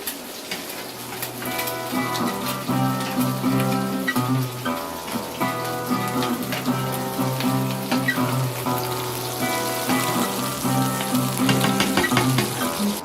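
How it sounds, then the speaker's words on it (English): An egg frying in hot oil in a single pan, giving a continuous crackling sizzle with popping bubbles that runs steadily throughout over a sustained tonal hum in the background. "And that hot oil also sort of makes it bubble up and go nice and crispy."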